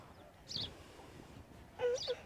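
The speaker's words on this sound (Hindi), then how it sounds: "सुबह सुबह चिड़ियों के बोलने की आवाज़ कितनी प्यारी आ रही है ना" Two brief bursts of high bird chirping, a second apart, faint against a quiet outdoor background.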